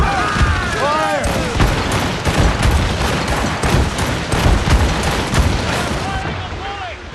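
Ship cannons in Assassin's Creed Rogue fire in a continuous, loud barrage of booms and cracks during a gale at sea, with crew shouting over the volley.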